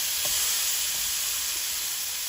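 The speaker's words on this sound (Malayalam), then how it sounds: "നെയ്യ് ഒന്ന് ഉരുകി വരുമ്പോൾ നമുക്ക് നുറുക്കി വെച്ചിരിക്കുന്ന ഏത്തപ്പഴങ്ങൾ ഇതിനകത്തേക്ക് ചേർത്ത് കൊടുക്കാം" Chopped plantain pieces dropped into hot melted ghee give a steady, close sizzle and hiss throughout, with a few faint stirring knocks and no talking.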